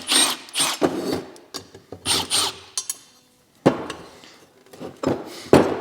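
Heat shield being pried and pulled off an Evo 8 engine during a rebuild, with loud metallic clanks, scrapes and rattles in several bursts separated by short pauses, close by and without talk.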